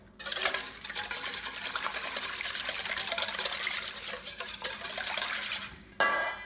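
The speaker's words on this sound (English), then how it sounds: "So we're cracking our eggs. And we'll give those a little bit of a whisk." Cracked eggs being whisked in a bowl, a quick continuous scraping and clinking of the whisk against the sides, close and moderately loud, ending with a brief knock.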